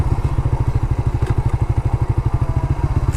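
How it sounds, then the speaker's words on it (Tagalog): A motorcycle engine idling near a river, a loud, close, fast and even thumping putter that keeps a steady rhythm throughout with nothing else prominent. "May mga motor na rin dito eh."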